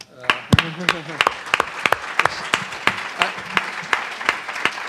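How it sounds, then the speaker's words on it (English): Hand clapping at a public policy discussion on urban policy and fiscal austerity, heard as a dozen or so sharp, separate claps in an uneven rhythm, close and fairly loud, with a little talk early on. "I'll clap to that."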